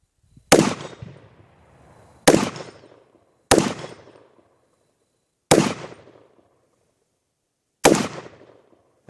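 A 300 Blackout AR rifle fires five loud, sharp gunshots at uneven intervals. Each crack trails off in a short echoing decay, with near silence between shots.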